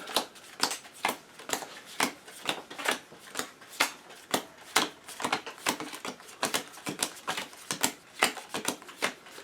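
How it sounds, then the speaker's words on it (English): Decks of playing cards for the Lord of the Rings card game are shuffled in a rapid run of crisp riffling bursts, close and steady over about nine seconds with no talking. "So the first thing we do is shuffle our decks."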